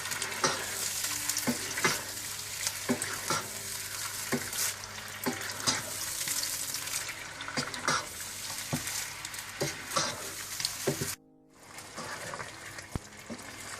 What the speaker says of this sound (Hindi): और चिकन के साथ ही आपने अदरक लहसुन पिसा हुआ डाल देना। और इसको अच्छी तरह से आप मिक्स कर लें।